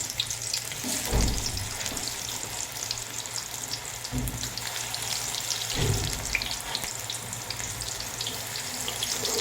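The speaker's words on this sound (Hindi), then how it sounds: "हमारा ऑयल जो है देखें बिल्कुल गरम हो चुका है। अभी हम इसमें डालेंगे पकोड़े।" Pakoras frying in hot oil in a pan, making a steady, even sizzle and crackle that runs throughout, with a few brief louder low thumps and clatters from the cooking.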